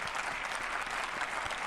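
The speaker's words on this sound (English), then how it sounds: "Big round of applause for Sergio, player of the night tonight." Dense, steady applause from a large crowd in an NHL 25 hockey video game, continuous clapping filling the whole moment without any speech.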